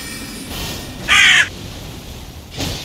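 A crow in the Elden Ring video game lets out a single loud, harsh caw lasting about a third of a second, standing out over quiet, low game ambience.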